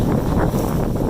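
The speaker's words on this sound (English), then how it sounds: "Boy, it's windy out." Steady broadband wind roar buffeting the microphone outdoors during a corn harvest with a New Holland combine, continuous and fairly loud throughout with no speech.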